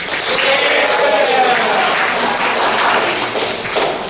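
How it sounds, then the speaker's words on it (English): A convention crowd claps and applauds steadily for several seconds, a dense wash of hand claps that eases slightly toward the end. "Give yourselves a round of applause."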